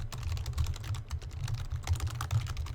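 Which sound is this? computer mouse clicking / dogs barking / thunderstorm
computer mouse clicking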